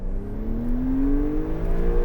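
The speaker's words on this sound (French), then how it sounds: "Allez, on va accélérer un coup." A car engine revs up under acceleration, a loud sustained drone climbing steadily in pitch over about two seconds, then levelling off near the end.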